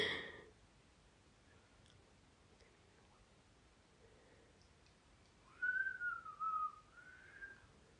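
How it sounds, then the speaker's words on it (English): A faint, quiet room, then a short, wavering whistled tune rising and falling for a couple of seconds near the end. "You're not going to be whistling soon."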